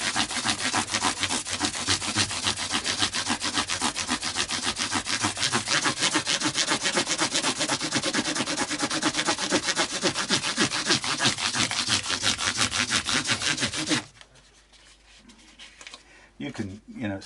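Guitar frets on an Epiphone SG are rubbed with 1000 grit abrasive in fast, rhythmic back-and-forth scrubbing strokes close up, stopping near the end and leaving quieter handling noises.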